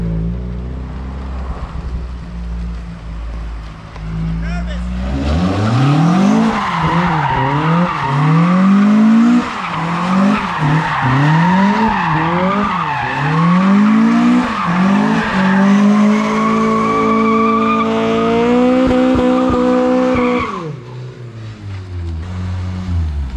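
A car drifts with a loud, close engine that revs up and down in repeated surges while the tires squeal and skid continuously for about fifteen seconds, then the engine settles to a steadier drone.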